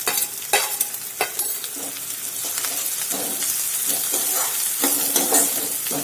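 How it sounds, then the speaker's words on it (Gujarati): Garlic, ginger and chopped green chillies sizzle steadily in a hot oil tempering, with sharp scrapes and clacks of a spoon stirring the pan at intervals, close and loud, with no talking. "હવે 1 મિનિટ માટે આપણે આ રીતે બધું સાંતળી લઈશું."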